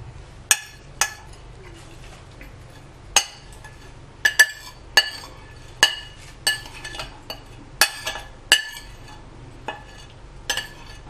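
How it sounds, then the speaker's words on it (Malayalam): A spoon clinks against a dish as ingredients for a lazy-style sardine curry are mixed, with sharp, irregular taps spread over a quiet background. "ഇതിലോട്ട് നമ്മൾ ഈ ഇൻഗ്രീഡിയൻസ് എല്ലാം കൂടെ നമ്മൾ ഇതിലോട്ടിട്ടിട്ട് മിക്സ് ചെയ്യും"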